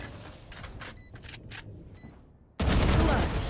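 Video game gunfire from a first-person shooter match: a rapid string of sharp, loud shots in quick bursts, a brief lull, then a sudden dense burst of louder, sustained firing and blasts that fills the end.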